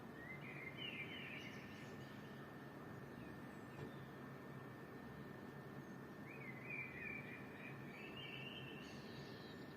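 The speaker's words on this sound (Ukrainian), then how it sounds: "От я не чула таких птахів в Україні" Faint birdsong drifts in from a distance, a few warbling phrases rising over a steady hum of background noise.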